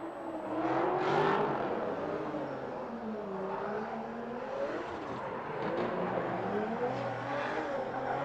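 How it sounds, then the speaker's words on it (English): Drift cars at Lake Erie Speedway roar through a drift competition, engines revving and wavering in pitch while tires squeal and skid continuously, heard from a distance as a loud sustained wash. "there's some beautiful drifting going on so far"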